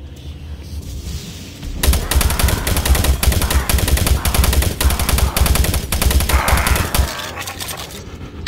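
Rapid automatic gunfire from the video game Doom 3 rattles on loudly and steadily for several seconds after a quieter opening, with bursts of dense repeated shots dominating the mix.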